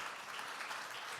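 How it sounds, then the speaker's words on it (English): Brief burst of audience applause at a startup pitch event, dense steady clapping heard at moderate distance for just over a second. "One more round of applause."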